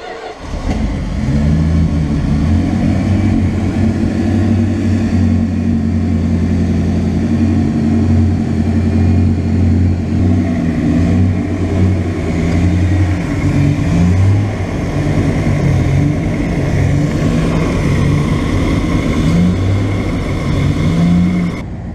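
A Dodge van engine turns over and runs at a steady idle with a loud, continuous low rumble and a slight rise in revs throughout.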